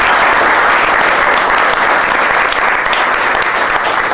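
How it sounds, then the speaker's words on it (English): Loud, dense applause from a concert audience for the NAU jazz band, a thick continuous roar of clapping close and steady for the whole stretch. "So let's give a round of applause for this band"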